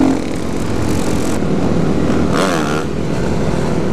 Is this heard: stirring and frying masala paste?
no